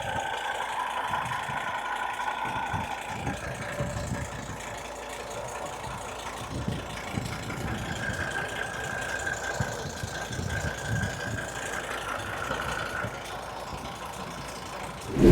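A 2005 Mercedes CLK 270 CDI ten-horsepower-rated diesel engine idles with the bonnet open, giving a steady, moderately loud low rumble with a faint clatter that holds evenly throughout.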